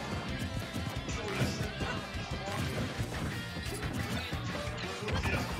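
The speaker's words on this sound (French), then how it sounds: "Oh, attention C4, bon là c'est une grenade." A heavy crashing burst from a grenade in a fighting video game, part of a continuous loud, dense wash of game impacts and action noise.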